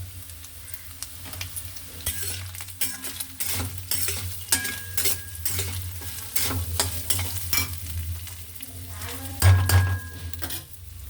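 A thick rabri mixture of milk, sugar and soaked rice being stirred in a cooking pan, with repeated scraping strokes and clinks of the spoon against metal over a constant sizzle.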